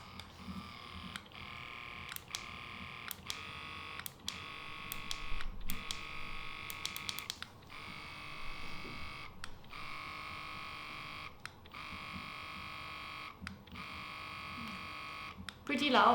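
A wearable breast pump runs in expression mode at maximum strength, giving a steady motor whir broken by rhythmic suction cycles with brief clicks, fairly loud and close, with faint talk in the background.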